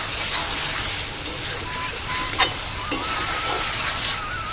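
Chicken kochuri filling with sugar sizzles in a pan while being stirred, a steady close frying hiss with a couple of sharp spoon clinks against the pan.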